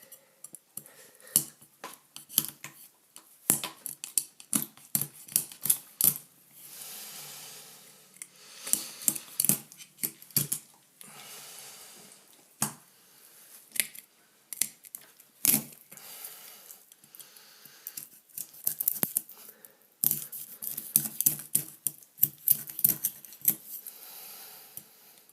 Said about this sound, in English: Try not to cut in too far. Just enough to break the bones.